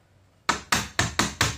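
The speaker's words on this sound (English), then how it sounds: "Finally using my wooden mallet actually" A wooden mallet with an oak head and ash handle strikes five times in a steady rhythm, each blow loud, close and sharp with a quick decay, during house remodeling work.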